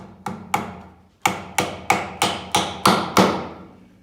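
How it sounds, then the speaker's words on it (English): A small nail is driven into a wooden nuc quilt box by a hammer: two light taps, a pause, then six sharp, ringing blows in a steady rhythm, close and loud with no talking. "we've got this little nail here, and we're just going to put it in somewhere halfway"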